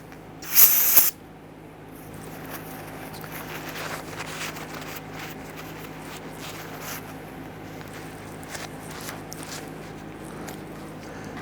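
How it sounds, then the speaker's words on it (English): One short, loud burst of spray hisses as solvent is sprayed onto the front brake parts of a 1994–2004 Ford Mustang, followed by quieter workshop background noise and faint handling sounds. "Use some solvent, give it a spray."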